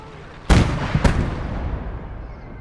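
Artillery fire in the WWII strategy game Gates of Hell, Airborne Hell's Highway mission: two heavy booming blasts about half a second apart over a low rumbling battlefield backdrop, fairly loud and close.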